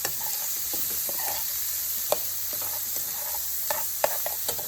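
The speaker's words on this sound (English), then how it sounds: "So we're giving that a nice saute." Green beans and bacon sauté in a pan with a constant close sizzle, broken by intermittent scraping and clicking stirs from a utensil against the pan.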